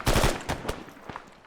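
Bursts of gunfire crack in the video game Arma 3, a rapid cluster of shots up front followed by scattered, fainter single reports.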